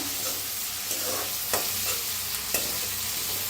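Chopped aubrinjal, garlic and tomato roasting in a hot pan, a continuous loud crackling sizzle with a few distinct scraping stirs of a spoon at regular intervals, close by and with no voices.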